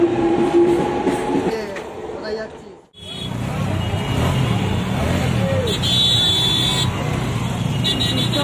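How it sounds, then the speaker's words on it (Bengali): A local train pulls away from Dasnagar station bound for Tikiapara, with loud rumbling and rail clatter on a busy platform, a brief dip partway through, and people talking throughout. "তো এবার যাবে টিকিয়াপাড়া ট্রেনটা"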